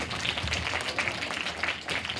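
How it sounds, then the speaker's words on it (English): Students clapping at a school assembly as a guest climbs onto the stage for an awards presentation, a short burst of many hands with uneven, fluttering beats. "Students, I would like to clap when Panna ma'am climbs on the stage."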